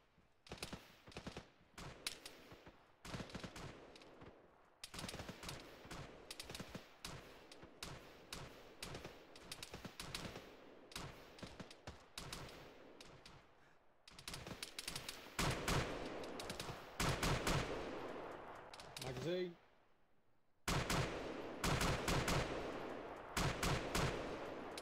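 Gunfire crackles in ArmA 3, a military shooter set on Sahrani in 1982: dense bursts of automatic and rifle shots in rapid clusters, some near and sharp, others more distant, continuing in waves with brief lulls.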